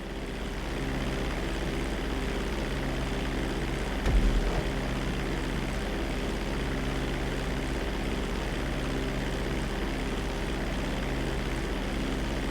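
A propeller airplane engine drones steadily in GTA V flight school, a constant close hum with a brief louder bump near the four-second mark and no talk.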